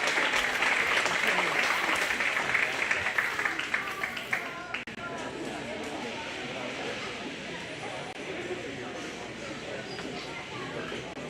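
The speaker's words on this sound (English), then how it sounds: "Give all these kids one more big round of applause" An audience at the Greene County Fair gives a burst of applause for kids, loud at first and then thinning into murmuring crowd chatter and scattered claps.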